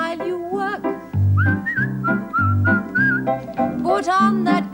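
A person whistles a merry, bouncy tune for a 1979 BBC Play School children's song, loud and close, with the melody carried over a steady, low musical backing.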